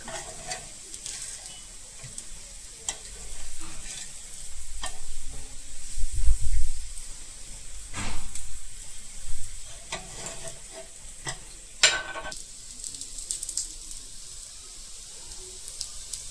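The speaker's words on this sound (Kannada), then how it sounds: "ಎರಡು ಕಡೆಗೂ ಎಣ್ಣೆ ಹಾಕಿ ಬೇಯಿಸ್ಕೋಬೇಕು" Gram flour vegetable cutlets (besan veg cutlets) cooking in oil, a continuous sizzle with scattered stirring and scraping clicks and a few louder bursts of spatter, close and alone.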